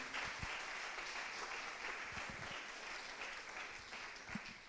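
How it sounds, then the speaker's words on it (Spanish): Church congregation gives a loud round of applause to God during a sermon, a steady, somewhat distant wash of many clapping hands with a few louder claps and cheers rising above it. "Dale un aplauso fuerte a Dios"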